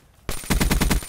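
A short burst of automatic gunfire in a one-on-one free-for-all shooter match, with about six rapid shots in quick rhythm, loud and close, after a brief quiet lead-in.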